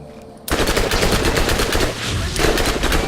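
Corrodi SMG in Borderlands opening up with sustained rapid automatic fire, loud and close, starting abruptly after a brief quiet moment and continuing with a dense rattle to the end.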